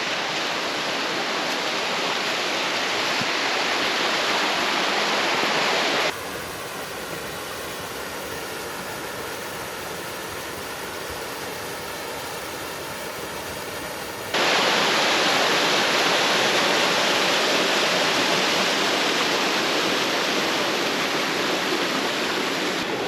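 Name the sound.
waterfall on Caney Creek, Caney Falls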